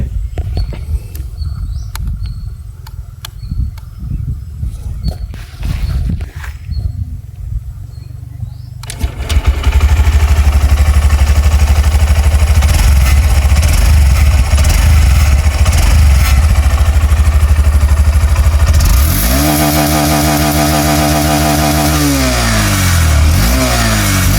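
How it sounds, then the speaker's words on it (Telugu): After quiet handling noises, a 2026 Honda SP 125 motorcycle with a single long chrome-shielded exhaust starts and idles with a loud, steady close putter, then gets blipped through several rising and falling revs. "ఒకసారి ఎగ్జాస్ట్ సౌండ్ వినండి."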